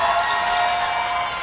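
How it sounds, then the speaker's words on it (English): Crowd at a dog agility course cheering and applauding, a brief steady wash of distant cheers and clapping. "You can hear the crowd cheering them on."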